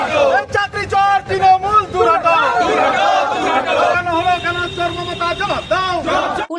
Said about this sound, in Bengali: শুরু হয় স্লোগান